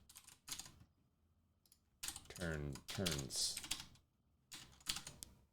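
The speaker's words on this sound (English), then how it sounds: "What am I typing?" Typing on a computer keyboard comes in quick clattering bursts of keystrokes, separated by pauses, with someone talking in between.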